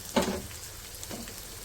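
Chicken pieces drop into a pan of frying onion and ginger garlic paste with a short burst of sizzle and stirring, then a softer, steady fry.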